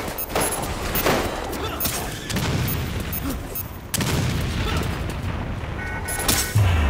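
Rapid gunfire bursts in the zombie shooter game Resident Evil Umbrella Corps, loud dense shots in clusters with booming impacts, continuing almost without pause.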